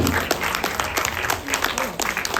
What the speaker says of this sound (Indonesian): Tepuk tangan yang meriah boleh buat baki nomor 7.